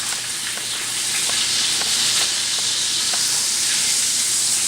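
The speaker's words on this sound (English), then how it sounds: "Give them a little sear on the edges." Peppercorn-crusted steaks sear on their edges in a hot pan, giving a loud, continuous close sizzle and hiss that holds steady throughout.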